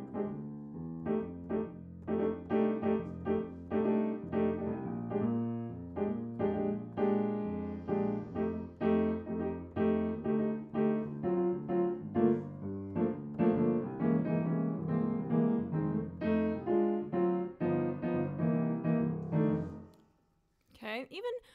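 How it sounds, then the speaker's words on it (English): Solo blues piano with dense rhythmic comping chords in the right hand over a walking bass line in the left, played steadily and loud for about twenty seconds before stopping abruptly. "So I'm going to play a blues, and I'm going to demonstrate I'm going to walk a bass line in my left hand"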